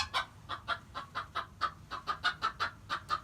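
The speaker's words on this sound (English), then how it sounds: "Silly rooster." A rooster clucks in a backyard chicken coop: a steady run of about fifteen short, close, evenly paced clucks, each one sharp and fairly loud, with no talking.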